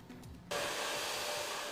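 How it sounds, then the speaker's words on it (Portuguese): A hair dryer in a hair salon switches on after a brief moment of quiet room sound, then blows with a loud, steady whooshing whine up close. "Secador e chapinha são apenas alguns dos aparelhos que ficam ligados o dia inteiro neste salão"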